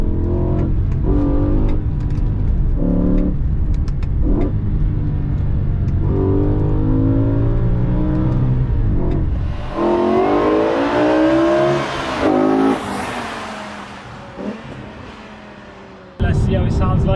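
BMW E60 M5 with a carbon plenum, its engine revving hard through the gears with a sharp downshift blip, loud and close, the roar rising and falling before cutting off abruptly near the end.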